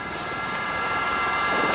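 Army training helicopter lifting back into a hover during a trainee pilot lesson, its engine and rotor making a steady, loud broadband roar with a faint high whine throughout, no voices.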